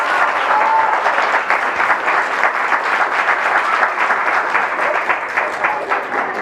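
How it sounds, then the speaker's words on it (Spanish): Dense, steady audience applause fills a community centre inauguration in Colonia El Arenal, Azcapotzalco, Mexico City, with a crowd clapping loudly and continuously from start to finish. "Entonces pido otro aplauso para Javier."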